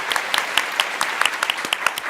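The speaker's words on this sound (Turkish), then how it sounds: "teşekkür ederiz efendim kıymetli alkışlarınıza" A studio audience on a Turkish word game show applauds, with sparse, distinct claps from a small group sounding crisp and close, loose rather than rhythmic, over a couple of seconds.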